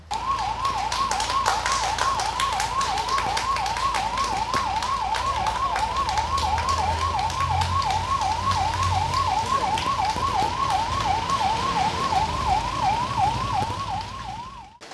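Ambulance siren sounding at the launch of a new ambulance service in Edakochi, Kerala: a loud, steady wail rising and falling in quick regular cycles for the full fifteen seconds, with no talking.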